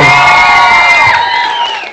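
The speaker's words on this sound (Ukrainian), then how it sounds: "Ваші оплески." Audience at a children's camp fairy-tale skit cheers and whoops loudly, with high shouts and voices blending into a brief, close crowd roar that fades at the end.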